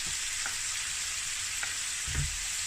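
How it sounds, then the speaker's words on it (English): Firecracker kimchi with meatballs and tofu simmering in a pan, a steady broad sizzle throughout with a few soft low knocks of stirring. "And just let this simmer for a minute"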